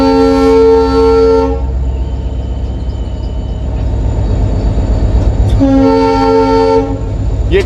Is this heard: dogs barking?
no